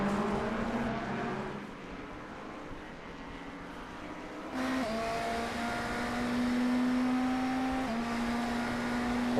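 Race car engine from a Fuji racing video game, passing an LMP3 prototype: a steady mid-level engine drone that jumps in pitch and volume partway through, then holds high with small gear-change dips, no voices.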